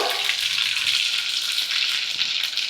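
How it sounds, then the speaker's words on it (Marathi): Mustard seeds and cumin crackle and sizzle in hot oil during tempering over a lowered gas flame, a dense, steady spatter of pops heard close up and alone. "मोहरी मस्त अशी तडतडली"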